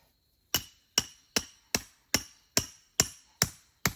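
Nine sharp, ringing hammer strikes at a steady pace driving a beaver trap stake, each loud and close with a brief decay, on a quiet background.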